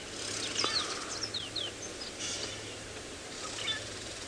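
Several sharp, high bird alarm chirps, warning of a leopard, come in short bursts over a quiet outdoor safari background at sunrise, with a pause before a final call.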